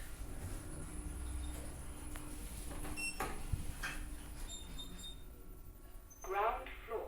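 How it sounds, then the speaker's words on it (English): Lift doors slide shut in an older lift in St Albans with a smooth mechanical rumble and a soft thud, followed by a recorded voice announcement. "Doors closing."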